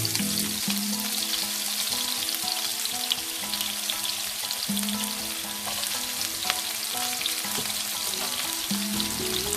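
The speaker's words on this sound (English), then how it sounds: "Then we're going to throw 1 small onion chopped up in." A small chopped onion frying in a hot pan for a South Indian salmon and prawn dish: loud, dense, continuous sizzling with faint stirring scrapes throughout, close and without any voices.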